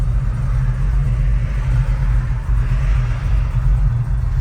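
A 1969 Dodge Dart Swinger 340 V8 runs close by with a heavy, steady low rumble and faint fluctuations in its throb, and no voices are heard over it.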